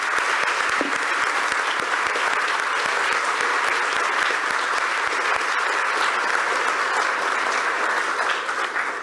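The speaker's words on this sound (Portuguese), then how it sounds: "se concordarem com a salva de palmas, fica ratificado o trabalho destas nossas entidades" An audience at a Luso-Brazilian congress of tax auditors breaks into sustained applause, a thick, even patter of many hands that holds steady for several seconds before easing slightly at the end.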